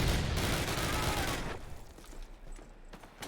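Bursts of 7.62x39 rifle fire in Call of Duty crackle loudly in the first second and a half, then fade to sparse, quieter shots.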